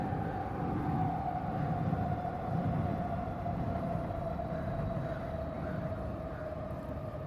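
A passing train gives a steady, fairly loud rumble with a sustained tonal whine running through it, continuous and unchanging throughout with no voices.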